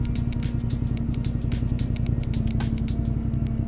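Ducati motorcycle accelerating through Manhattan traffic, a steady loud engine drone with a low harmonic hum and rushing wind, heard up close from the rider's position with no talk.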